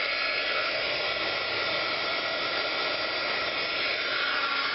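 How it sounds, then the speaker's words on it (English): A heat gun blows for embossing, a steady, loud roaring hiss of hot air that holds evenly without a break from start to end. "you're going to fire up your heat gun, and we're going to give this guy a little heat"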